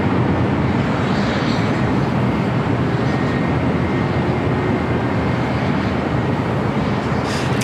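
A plane arriving at LAX on the north side, a steady broad roar of jet engines holding at constant loudness, near and unbroken.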